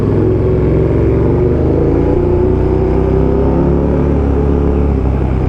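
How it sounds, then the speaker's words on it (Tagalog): Motorcycle engine heard loud and close while riding, a steady low rumbling drone that stays constant throughout with no speech. "Ingay ng motor ko."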